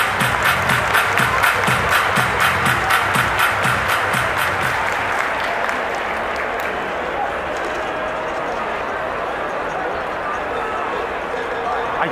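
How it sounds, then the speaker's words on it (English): At a Mets baseball game at Citi Field, a large crowd claps in a steady rhythmic beat that gradually dissolves into a broad, continuous roar of cheering and applause. "Clap your hands!"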